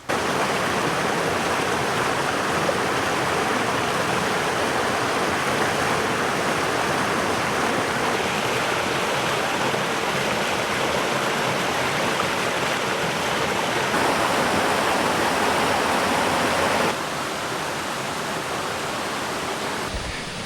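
A creek at a summer campsite flows in a constant, full rushing wash that holds steady for a long stretch and eases slightly near the end, with no talking over it.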